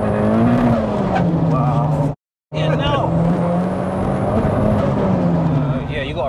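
A 510 bhp rear-wheel-drive Toyota MR2 with a 2.2-litre turbo stroker engine pulls hard under full power, a loud sustained engine roar with a brief drop-out midway, while people talk over it.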